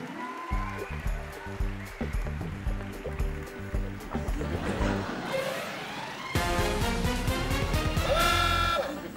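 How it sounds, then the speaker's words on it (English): Bonus round sound effect from a kids' space-facts podcast game show: a busy, loud musical jingle with rhythmic low thumps, then a brighter, denser burst of chimes and splashy tones that swells toward the end. "that is the sound of the Bonker Balls bonus round"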